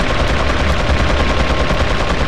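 Rapid, loud automatic gunfire from the Resident Evil 4 video game, a dense unbroken stream of shots lasting the whole stretch with no talking.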